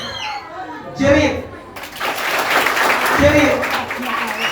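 At a Sunday school camp, a group of children clap hands together in a call-and-response game, the claps bursting out amid lively chatter and an adult voice speaking over them.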